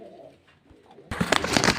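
Pigeons coo softly at first and then burst into a louder cluster of cooing and rustling as several birds are packed for dispatch, close by with no talk.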